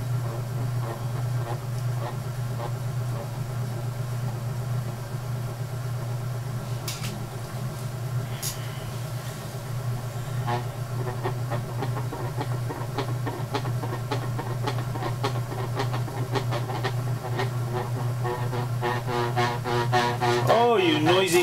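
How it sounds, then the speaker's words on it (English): An electric potter's wheel spins with a steady loud hum and rattling whine while a corner wall vase is thrown on plastic bats, the noise continuous and rising slightly near the end. "Oh, you noisy wheel. Noisy wheel."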